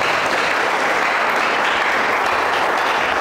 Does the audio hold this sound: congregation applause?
yes